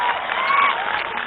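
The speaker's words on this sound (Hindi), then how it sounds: "उनके लिए तालियों की हो जाए साथियों।" A political rally crowd applauds its volunteers: dense, steady clapping from many hands, close and continuous, briefly filling the moment.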